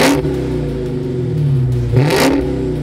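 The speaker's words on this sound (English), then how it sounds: "you got a dual exhaust to hear that Hellcat sound." A 2020 Dodge Charger SRT Hellcat Widebody revs through its dual exhaust, a loud, close engine note that surges in two bursts over a steady idle rumble.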